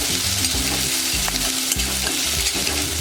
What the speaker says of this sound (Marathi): तेही आता व्यवस्थित परतून घेऊया तेलामध्ये.